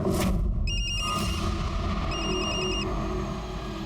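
An electronic phone ring chirps in two short bursts with a pause between, heard over a low rumbling background.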